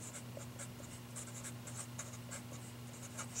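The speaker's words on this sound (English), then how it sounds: "let's write this down" Pen or marker writing a maths note about a cubic polynomial function, a steady scratchy stroking that runs the whole time over a constant low electrical hum.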